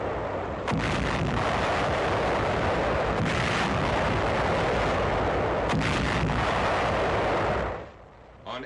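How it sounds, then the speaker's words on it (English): Naval artillery pounds the Lingayen Gulf area in a 1944 newsreel, heavy booming salvos rolling together into a continuous loud roar with sharper blasts standing out, before fading at the end. "A 3-day naval bombardment of the entire Lingayen Gulf area."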